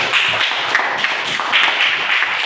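Students in a classroom clapping in unison, a continuous bright wash of hand claps at even loudness throughout with little talk.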